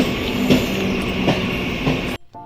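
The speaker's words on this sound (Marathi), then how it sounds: "आम्ही आता ट्रेनमध्ये बसलेलो आहोत आणि इथे बोरिवली स्टेशनला आलेलो आहोत" A suburban train at Borivali station rumbles loudly along the rails with rhythmic clacks of the wheels, close and steady, before the sound cuts off abruptly.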